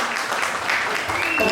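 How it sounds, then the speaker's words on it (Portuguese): Studio audience applause on the Night Show Café com Café TV program, a short dense burst of clapping with some voices mixed in underneath. "Vamos de palmas"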